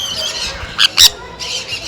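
Parrots at Rajali Birds Park in Thanjavur let out two loud, close, harsh squawks in quick succession over a background of fainter bird chatter.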